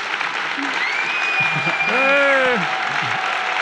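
A theater audience breaks into steady clapping that fills the room, with a voice calling out briefly and a few tonal sounds rising over the applause.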